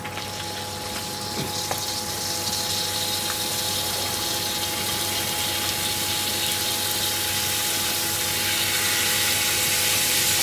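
Water rushing steadily through a malfunctioning foam unit as it is flushed, a loud continuous gushing flow with a constant pump-like hum, building slightly in volume over time.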